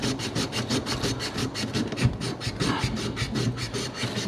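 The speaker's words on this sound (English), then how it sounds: "So now we're going to sand it off." Sandpaper rubs paint and solder off a water heater's flex pipe in quick, even back-and-forth strokes. The rasping is close and rhythmic, and no voices are heard.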